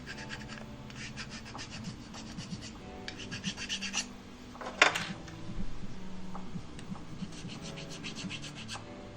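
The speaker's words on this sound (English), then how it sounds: "So I'm gonna prep this by just making sure the mating surfaces are flat." Flat mating surfaces of a 3D-printed tool head being sanded by hand, heard as close, dry scratchy strokes in short bursts separated by pauses, with one sharper scrape midway.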